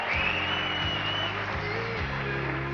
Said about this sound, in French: On peut applaudir, bah oui, on peut applaudir